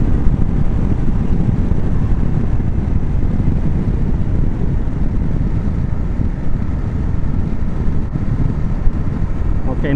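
KTM 790 Adventure motorcycle accelerating hard in off-road mode, a steady loud engine roar mixed with heavy wind rush across the whole stretch.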